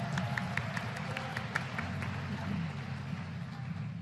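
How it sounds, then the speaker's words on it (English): An audience at the 2023 White House Forum on Asian Americans, Native Hawaiians, and Pacific Islanders gives a round of applause for panelists: dense, even clapping that continues for the whole stretch, with no talking. "Please join me in a round of applause for these amazing panelists."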